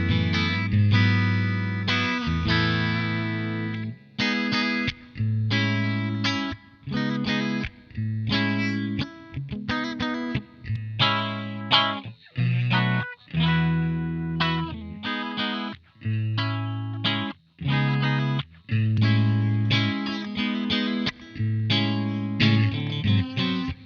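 An electric guitar played clean through a Two Notes OPUS or ReVolt amp simulator, recorded direct, with chords and picked phrases ringing in sustained bursts and brief gaps between them, alone and close.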